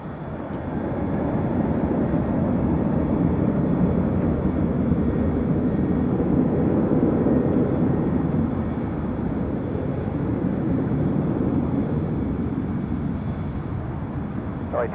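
An airliner takes off from runway 24 left at LAX, heard from high above the airport as a broad, steady jet engine roar that stays loud and even throughout, with no voices over it.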